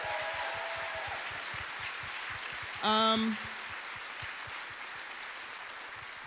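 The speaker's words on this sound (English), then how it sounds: "Give them a round of applause" A live podcast audience at the London Podcast Festival 2018 keeps up steady applause while a voice speaks over it through a microphone.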